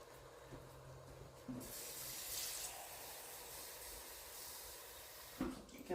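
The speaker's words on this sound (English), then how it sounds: "Get a little more water." Tap water running steadily into a pot while making beef stew, a broad hiss that starts after a few handling knocks and continues for several seconds before a clatter near the end.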